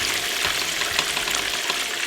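Chicken pieces frying in hot oil for a copycat Bennigan's Bayou Chicken, a steady, close, loud crackling sizzle with no pauses and no talking.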